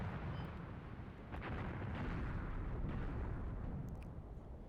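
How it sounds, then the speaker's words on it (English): Anti-tank guns and mortars shelling in a combined-arms war game set in an Iranian invasion, a continuous rumbling barrage of dull booms and bursts, steady and moderately loud with no voices. "Our anti-tank's been shelling pretty regularly."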